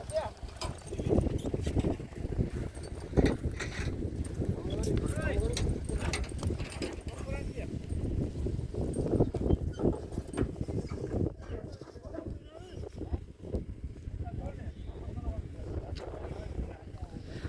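Horse hooves clip-clopping in a quick, steady rhythm during a ride at a rewal chaal horse racing field, close and continuous, with wind buffeting the microphone and voices talking over it throughout.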